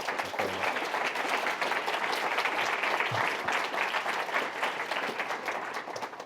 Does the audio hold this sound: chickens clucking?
no